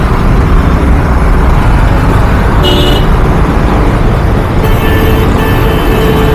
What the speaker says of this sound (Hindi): हाँ खुशी ट्रैफिक बहुत है,